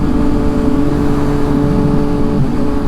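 A Yamaha MT-09 motorcycle engine under a recall fault runs while coasting, a loud, close, steady droning hum with rough, uneven harmonics and no speech.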